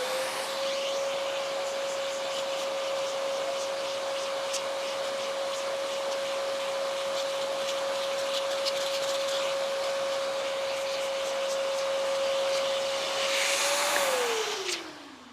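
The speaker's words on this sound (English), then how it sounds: "So I'll be turning on my vacuum, and I'm just gonna be vacuuming out any light debris that's sitting on the floor mat" A vacuum cleaner runs continuously over a car floor mat, a steady loud whirring drone with a constant tone and occasional debris rattles, winding down near the end.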